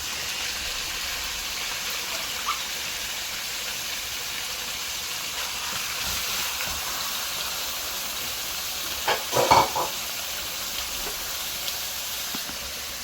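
Beef cooking in a pan with garlic, a steady broad hiss of simmering and steam throughout, with a brief louder clatter partway through; no talking.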